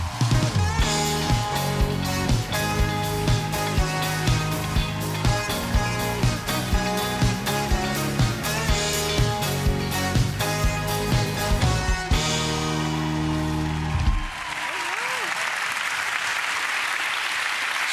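A late-night TV studio audience in Berlin greets a guest with long, loud, rhythmic applause over music, ending in a brief burst of clapping and crowd noise.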